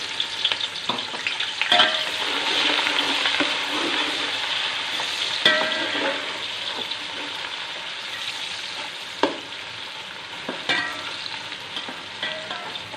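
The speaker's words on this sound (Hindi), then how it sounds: "प्याज को हल्का गोल्डन होने तक फ्राई करेंगे।" Sliced onions browning in oil in a deep pot for pulao, a constant bright sizzle with intermittent scrapes and clacks of stirring, close and fairly loud throughout.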